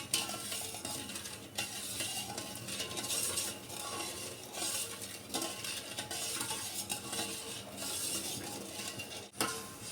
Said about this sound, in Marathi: आता ही साखर विरगळेपर्यंत आपण हलवत राहायचं